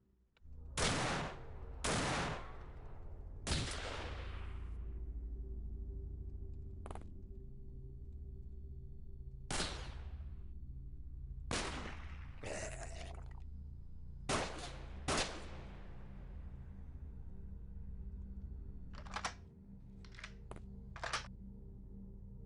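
Gunfire in the XCOM Files campaign of a turn-based tactics video game: a series of sharp, loud individual shots and short volleys spaced irregularly over steady background ambience.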